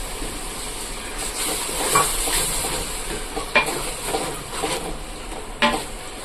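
Curd going into onion-tomato masala frying in a pan for chicken biryani, a steady sizzle and hiss with a few soft stirring scrapes and clinks, no talking.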